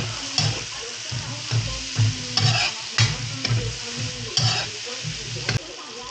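Chayote and beans stir-fry in a pan with a steady sizzle and repeated close scraping stirs of a utensil, and nobody speaks.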